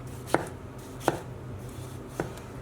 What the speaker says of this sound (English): And just like our onions, we want to do thick slices.